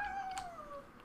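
A cat meows once in the video game Garry's Mod, a short, fairly clear call that slides downward and fades, with no talking.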